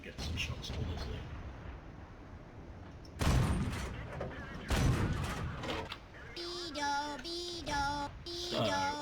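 Heavy tank cannon fire from the AMX 13-57 GF autoloader in World of Tanks: two loud booming shots a second or so apart, set against continuous battle rumble, followed by rising electronic beeps and tones.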